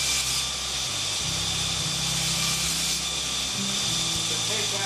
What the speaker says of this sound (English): I'll just lay the blade on the belt very lightly